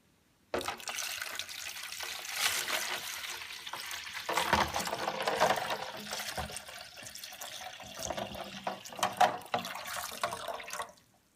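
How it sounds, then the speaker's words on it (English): Tap water runs into a bathtub, a steady splashing, trickling rush that starts abruptly and continues at moderate level for about eleven seconds, with a few brief clinks and no speech. "Let's fill the tub with water."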